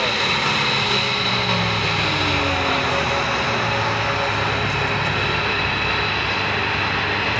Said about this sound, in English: the P-51D Mustang.